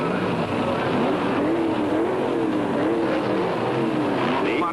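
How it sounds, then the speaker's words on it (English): Drag racing cars, a brand-new Plymouth Roadrunner against a Chevrolet, at the 1971 NHRA Winternationals in Pomona, California, roar loudly and continuously with rising and falling engine tones, heard from trackside without clear voices. "Don Garlits' brand new Roadrunner going against national champion Carol Caudle in his FMP Chevrolet"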